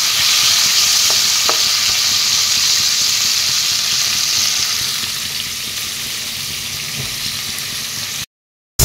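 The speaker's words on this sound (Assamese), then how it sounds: "প্ৰথমতে এয়া অলপ ফ্ৰাই কৰি লওঁ, অলপ ৰংচঙুৱা হ'বলৈ দিম।" Fish fries in hot oil in a pan for a fish curry, with a loud, continuous close sizzle and a few faint scrapes of stirring. It cuts off abruptly to silence near the end.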